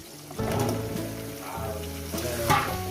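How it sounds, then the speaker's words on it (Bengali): Pumpkin pieces go into a pan for a chorchori with fish head and prawns, bringing up a moderate, close sizzle that swells a few times as the pieces settle, with a tonal hum running behind it and no speech. "কুমড়োটা দিয়ে আমি সাত আট মিনিট ধরে এটাকে ভাজবো"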